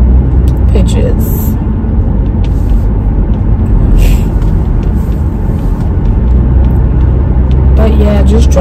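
A car driving home through heavy traffic, a steady loud low rumble of engine and road noise with passing vehicles and a brief hiss, under a person talking throughout.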